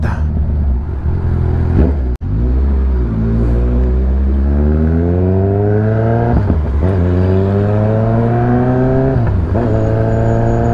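Car engine on a congested Manila road, heard from inside a vehicle: a steady low hum that rises and falls in pitch through several short accelerations, with one sharp thump early on and no talking.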